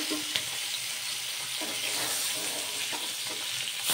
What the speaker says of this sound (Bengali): একই রকমভাবে সবগুলো মাছই কিন্তু আমি ভেজে তুলে নেব।